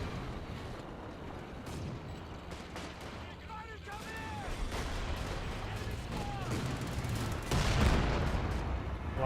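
Shelling pounds a fighting position in Company of Heroes 2, a dense run of booming artillery impacts and crackling gunfire with whistling shells overhead, the barrage building louder toward the end.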